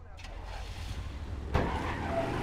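In APB Reloaded, a car rumbles steadily with low engine drone before a sudden sharp impact as it reverses into another vehicle, followed by continued engine noise and faint skidding.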